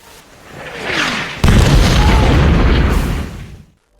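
A rising rumble leads into a sudden loud wartime explosion near a convoy in the Siege of Leningrad, followed by a sustained roaring blast that fades out abruptly after a couple of seconds.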